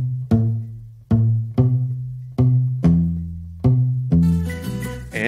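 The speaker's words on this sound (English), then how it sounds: "the bass tumbao will always play a 2-note pattern that emphasizes beat 4 and beat 8" Salsa bass tumbao playing a repeating two-note pattern stressing beats four and eight, deep plucked notes landing at steady intervals and ringing between, with other instruments joining at the end.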